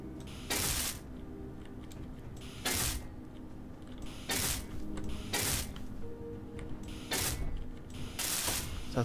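Ratcheting mechanical welding bursts from a tool in the space survival game Space Engineers, repeating roughly every second and a half as short, bright, hissing pulses over a steady low hum.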